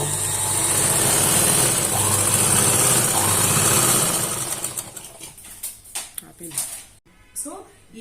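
An electric sewing machine stitching a can-can skirt runs in a steady, fast whirring burst for about four seconds, then stops, followed by a few scattered handling clicks and brief talk.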